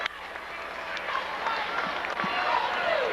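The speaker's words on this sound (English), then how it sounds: "Pardon me while I applaud" Applause and crowd noise at a 2004 high school boys basketball quarterfinal, honoring a retiring announcer, with steady clapping filling the gym under a faint background murmur.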